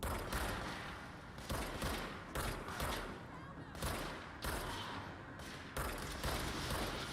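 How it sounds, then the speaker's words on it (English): Rapid bursts of gunfire from the video game Control come in repeated volleys every second or so, loud and dense, with a voice talking over parts of it. "Is there shooting going on?"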